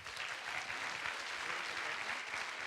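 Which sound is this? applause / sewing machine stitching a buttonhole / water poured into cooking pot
applause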